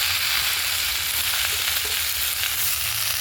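Malabar spinach stirred into pumpkin frying in a pan, giving a steady, close hiss of sizzling oil with soft stirring scrapes throughout and no voices.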